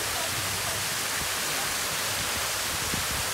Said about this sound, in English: you probably can't even hear me